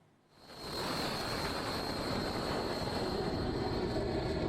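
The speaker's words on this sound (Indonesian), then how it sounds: "jet tempur lepas landas dari kapal induk Amerika Serikat dan rudal diluncurkan" Fighter jets take off from a US aircraft carrier, a loud broad roar swelling quickly and then holding as a sustained, steady engine rush with a thin high whine.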